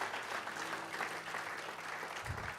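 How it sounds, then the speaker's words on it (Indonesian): Church congregation clapping during a sermon, a steady dense wash of applause at moderate distance with a low hum beneath, fairly quiet and continuous throughout. "Beri tepuk tangan buat Yesus"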